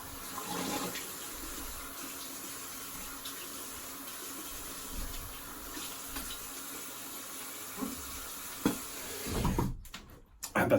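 Tap water runs steadily at a bathroom sink while a face is rinsed, a continuous close hiss with splashing bursts near the start and toward the end.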